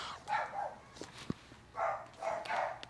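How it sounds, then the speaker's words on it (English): Dogs barking in short bursts at a distance, faint and intermittent, with a sharp knock in between and a low background hum. "Those dogs don't shut up."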